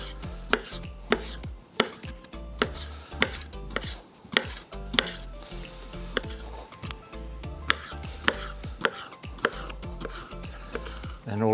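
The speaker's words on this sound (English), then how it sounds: "we're going to cut the smoked sausage into 1/4 inch" A knife chops smoked sausage into quarter-inch pieces on a board, giving a steady run of sharp, close thuds repeated at a brisk rhythm throughout.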